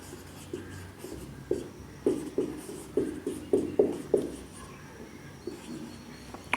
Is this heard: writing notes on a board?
yes